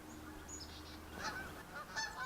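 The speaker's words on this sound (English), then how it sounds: "And here come the geese." Geese honk in a few scattered calls, moderately distant and fairly faint, over a quiet outdoor background by the C&O Canal's Antietam Aqueduct in early spring snow.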